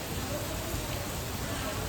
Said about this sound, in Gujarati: વરસાદ ને ફૂલ પવન ને બધું ચાલુ થઈ ગયું છે જામનગરમાં